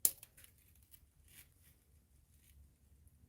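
Scissors snipping during a craft session with magnetic chain, a single sharp close snip at the start followed by faint light handling clicks and rustles, no talking.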